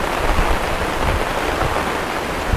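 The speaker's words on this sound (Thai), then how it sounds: "แต่ว่าฝนสาดน่าดูเลย" Heavy rain splashes down steadily at a tent campsite at Rai Rung Arun in Khao Yai, a loud, dense, unbroken hiss close by.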